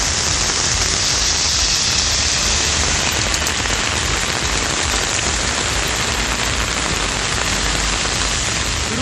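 Heavy summer rain pours across Tamil Nadu, a dense, even hiss of downpour striking surfaces, loud and unbroken throughout with no voices.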